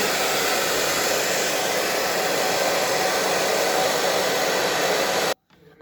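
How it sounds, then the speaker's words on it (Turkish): A hair dryer blows steadily at close range during hair styling, a loud, even rushing roar that cuts off abruptly near the end. "Açıyoruz fönümüzü."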